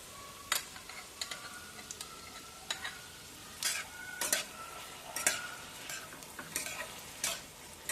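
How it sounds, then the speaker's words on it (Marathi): Veg Manchurian being stir-fried in a pan with salt and soy sauce: a spatula scrapes and stirs in bursts, with clinks and a light sizzle beneath, nearby and fairly quiet, no talking. "तो पण छान परतवून घ्यायचा आहे"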